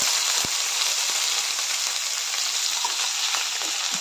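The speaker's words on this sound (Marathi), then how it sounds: "तर हे सर्व परतून घेऊया" Sliced onion, green chillies, curry leaves and tomato sautéing in a pan: a dense, continuous hiss of hot oil, steady and fairly loud, with a few soft taps of a spatula and no voices.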